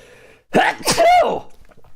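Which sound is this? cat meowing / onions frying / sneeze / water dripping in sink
sneeze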